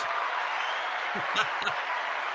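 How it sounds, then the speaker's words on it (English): A studio audience at a live Thanksgiving show gives soft, even applause as a steady wash of clapping, while a few low voices speak briefly beneath it. "let's get some applause"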